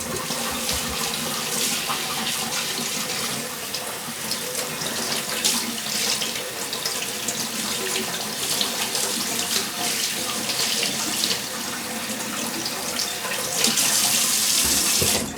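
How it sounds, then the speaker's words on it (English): Tap water runs steadily into a sink while rinsing off after underarm shaving with a safety razor, a constant close splashing stream with small shifts in the flow. "You want to rinse it off with cool water."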